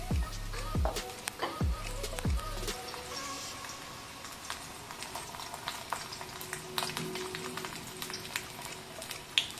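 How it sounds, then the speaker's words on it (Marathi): Colocasia (taro) leaves coated in batter are dropped into hot oil and fry with a steady crackling sizzle, a few sharp low splashes at the start, then a continuous busy frying hiss. "आणि तेलामध्ये टाकायची।"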